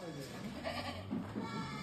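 Goats at a hillside goat farm in Jinabang, Rolpa, give short faint bleats amid the herd's background noise while a person talks nearby.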